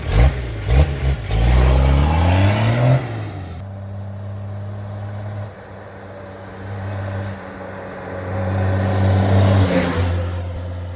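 A 1983 HJ47 ute with a diesel engine and a power upgrade revs up on a test drive, rising and dropping in pitch through gear changes, then settles into a steady drone that builds again near the end.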